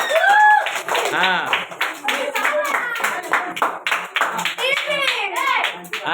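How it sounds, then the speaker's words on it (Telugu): Children at a New Year party held at a tuition class clap their hands in bursts, close and lively, with excited kids' voices chattering and calling over the clapping throughout. "Claps claps claps."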